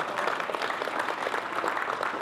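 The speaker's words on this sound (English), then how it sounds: "You can clap for that." Church congregation clapping together, a continuous crackle of many hands held at a moderate, slightly distant level for a couple of seconds with no voices on top.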